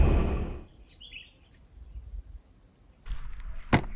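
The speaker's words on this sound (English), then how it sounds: "You only hear the birds and that's it." Birds chirp faintly and sparsely in a very quiet lakeside setting at Lake Toba, with a brief rustle at the start and a few louder knocks and scuffs near the end.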